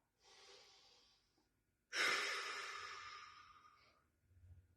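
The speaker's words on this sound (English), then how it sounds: "Nice breathing." Slow, audible breathing during a flexibility and stretching routine: a soft exhale, then after a pause a stronger, longer breath out, close and quiet with no talking.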